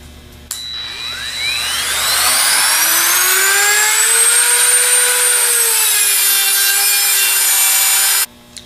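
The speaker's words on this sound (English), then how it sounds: "use the Dremel to cut it off" A Dremel rotary tool spins up to a loud, high whine while cutting through the steel bearing race of a Bosch alternator from a Dodge truck, rising in pitch then holding steady before stopping abruptly.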